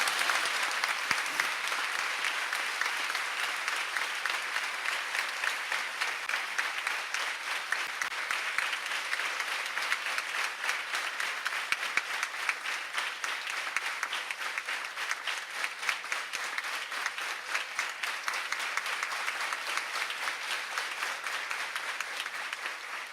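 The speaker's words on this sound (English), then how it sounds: "So you give a clap to him also." Sustained applause from a crowd at a lecture, steady and dense clapping throughout with no pauses, fairly loud and close.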